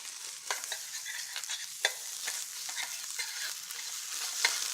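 Tomato paste sautés in an oiled pan with eggplant slices, a soft continuous sizzle broken by repeated spatula stirs and light scrapes, close up with no talking.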